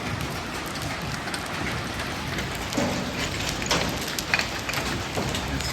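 Sizeable hail hammering onto a truck, a dense, continuous clatter of countless hard impacts with a few louder individual strikes standing out, close and filling the whole scene.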